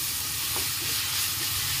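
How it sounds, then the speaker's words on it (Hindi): Sliced onions fry with a pinch of salt in a pan for a chickpea and paneer curry, a steady close sizzle and hiss with faint stirring scrapes. "तो यहाँ मैं प्याज को भूनते टाइम ही थोड़ी सी नमक डाल दे रही हूँ"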